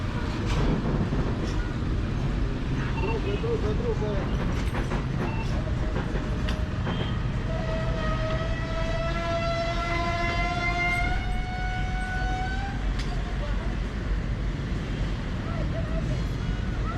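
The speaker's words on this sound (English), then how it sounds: "The train had to go very slowly to avoid any trouble." A passenger train rolling slowly on the Puno to Cusco line in Peru, a steady loud rumble throughout with a long drawn, wavering high squeal or horn tone rising over it midway, and talk mixed in.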